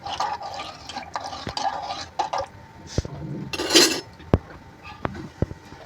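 A spoon scrapes and clinks against a heavy cooking pot while stirring a Gujarati chapti dhokli and cluster bean dish over high heat, with intermittent sharp metallic knocks and a wet bubbling, close.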